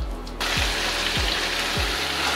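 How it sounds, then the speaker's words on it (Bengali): Bathua greens dropped into a pan of fried onions, a loud burst of sizzling that holds steady throughout, with a few low thumps as the leaves settle, no voices. "এই পর্যায়ে শাকটা দিয়ে দেব।"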